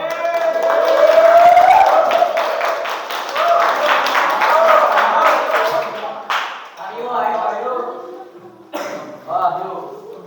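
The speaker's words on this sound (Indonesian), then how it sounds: "Tepuk tangan dong." Classmates in a vocational high school classroom clap for students called to the front, a quick burst of hand claps under talking voices that stop partway through, followed by more speech.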